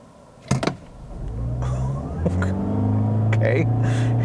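A 2022 Toyota Corolla Hybrid with a 1.8 liter engine accelerates hard, its buzzy engine note rising steadily in pitch and loudness from inside the cabin after a brief knock, with a voice speaking briefly.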